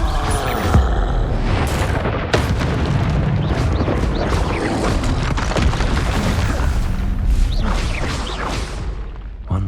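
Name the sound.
Confringo spell explosion in Hogwarts video game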